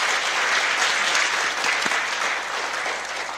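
An audience at a school district community forum applauds steadily and close by, a dense wash of clapping that holds for several seconds and then thins slightly near the end.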